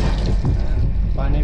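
Water running steadily from a tap in a washroom aboard the Konark Express train, a continuous hiss mixed with the rumble of the moving carriage, with a voice talking at points.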